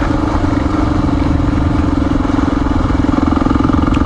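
A Honda XR400R dirt bike engine on a forest trail, a loud, close, steady thumping drone held at constant revs with mechanical clatter throughout.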